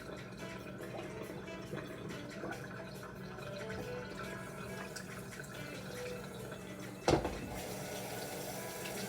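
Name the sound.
tap water running over washed cranberry beans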